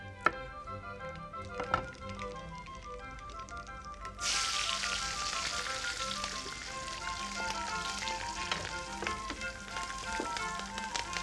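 Cumin seeds and slit green chilies drop into hot oil and sizzle loudly from about four seconds on, following a few light taps and clinks of utensils.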